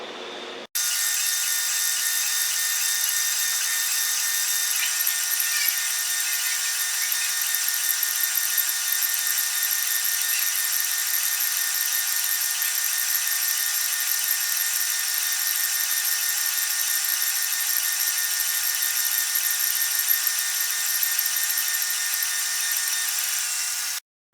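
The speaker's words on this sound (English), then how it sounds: "Now I'm going to take it over to the disc sander and flatten the bottom." A disc sander flattening the bottom of a white oak stump bowl: a steady, continuous high-pitched motor hum and abrasive rasp running unbroken for over twenty seconds, starting and stopping abruptly.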